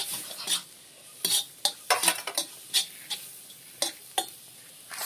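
A spoon scrapes and clatters against a pan while Malvani masala is stirred, giving irregular sharp strokes over a faint sizzle, close and alone.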